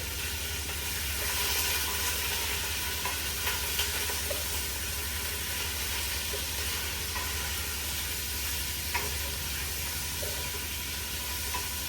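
Soup ingredients for a one-pot Mediterranean chicken orzo soup stirred in a pot over medium heat, a steady sizzling hiss with soft scraping and stirring sounds throughout, moderately quiet and continuous.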